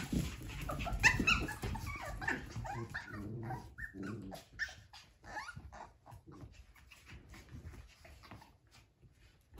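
Cavapoo puppies whimper and growl playfully up close, with occasional small yips, gradually quieting down.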